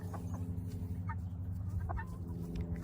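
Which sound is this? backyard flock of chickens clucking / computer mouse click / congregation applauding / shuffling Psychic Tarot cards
backyard flock of chickens clucking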